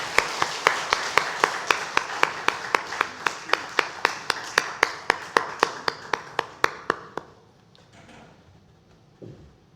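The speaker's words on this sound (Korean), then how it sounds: "하나님께 영광의 박수 올려드립니다." A church congregation claps together in a steady, rhythmic beat at a Sunday worship service, about two dozen evenly spaced claps, loud and close, that stop abruptly and leave a quiet room.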